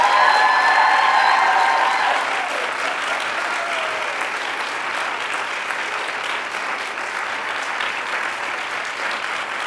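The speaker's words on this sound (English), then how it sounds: "So give them a clap." A graduation commencement audience applauding families and friends, dense sustained clapping from a large crowd that starts full and eases slightly, with a few scattered voices mixed in.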